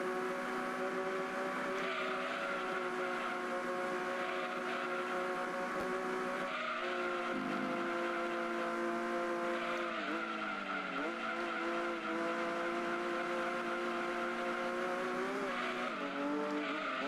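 Race cars, a Viper and a GT1, in the Gran Turismo 2 video game: a steady, loud, high-revving engine drone with shifting pitch and brief tire squeals, continuous throughout.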